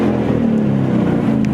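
A 2018 Ford Mustang running on E85 roars steadily as it accelerates, a loud, continuous low engine drone heard up close with no break.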